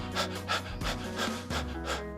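A human voice imitates a dog's panting breath, with about six quick, rhythmic breathy huffs, close and fairly soft, and no words spoken.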